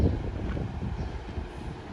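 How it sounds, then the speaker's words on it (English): A Class 158 diesel train's engines rumbling low and steady, heard from nearby with wind noise over the microphone, no voices. "You can hear the rumble of the engines behind there."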